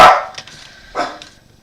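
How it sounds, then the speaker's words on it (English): A dog barks twice, loud and close. The second bark trails off with a softer yip, and there is no talking. "made our dog go nuts"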